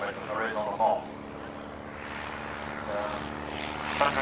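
A vintage aircraft powered by a 120 horsepower Cirrus engine flies past at an evening air display, its steady engine drone carrying throughout beneath a commentator's voice.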